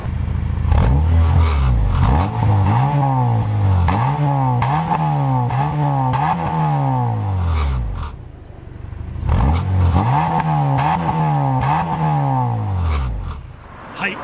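A Honda Integra Type R DC5 with its VTEC engine revs hard again and again, each rise and fall close and loud, then a short pause before another run of rhythmic revving.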